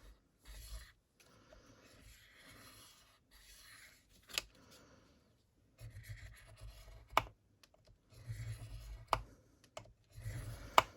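Scoring paper for a 3D doily Easter cone, a series of short scratchy scraping strokes and soft taps separated by quiet pauses, faint and close.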